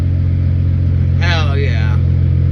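A BMW E90 with an N55 engine, just fitted with a new downpipe, idles close by in a steady low drone, while someone speaks briefly over it.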